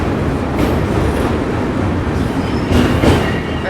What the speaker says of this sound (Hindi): फिलहाल अपनी ट्रेन पार कर रही है विशालकाय महानदी रिवर को